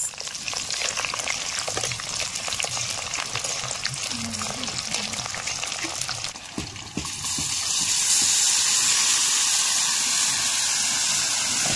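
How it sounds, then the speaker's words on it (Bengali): Spice-coated meat hitting hot oil with bay leaf, dried chilli, cumin, garam masala and onion in a wok: a continuous close sizzle with stirring that swells into a louder, hissing roar partway through. "তো মশলা মিক্স করা মাংসটা কারাইয়ে দিয়ে দিলাম।"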